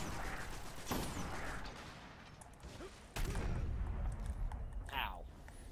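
Boss enemy gunfire in a PS3/PC video game: bursts of rapid shots and impacts with a sharp crash partway through, mixed with game effects and a player's voice.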